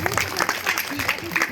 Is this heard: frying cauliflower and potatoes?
no